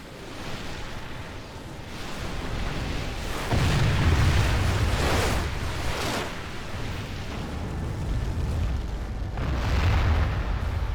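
Catapults fire and stones crash down in a large battle in Medieval 2 Total War, with heavy rumbling booms swelling over a continuous roar of distant combat noise.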